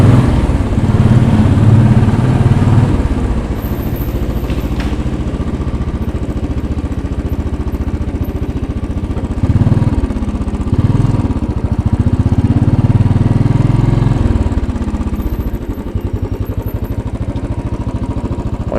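Royal Enfield Bullet 500 motorcycle engine running at a high idle on a downtown New York City street, a loud, steady thumping rumble that rises and settles slightly, with no talk.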